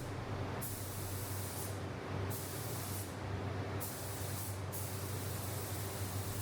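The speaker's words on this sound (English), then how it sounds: "it really does do a nice smooth pattern while I'm spraying" Spray gun laying a sealer coat onto a car body during an F100 restoration, a steady continuous hiss of atomized paint with a constant low air-compressor hum, the spray pulsing in several bursts.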